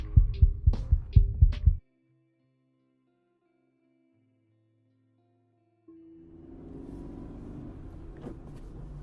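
A burst of rapid, loud thumping heartbeats for under two seconds, then silence, followed by a low rumbling hum.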